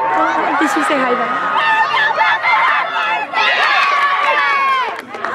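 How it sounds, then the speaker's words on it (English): A crowd of children and adults shouting and cheering at a team sports event, loud and close, with excited overlapping voices, squeals and chatter throughout. "this is the other team cheering behind us"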